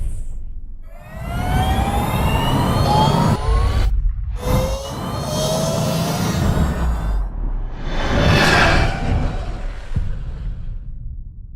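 An Ultraviolette F77 Mark II electric motorcycle, also called the F77 Mach 2, makes a loud, jet-like whoosh and whine, with rising and falling sweeping tones across several passes and a surging peak toward the end.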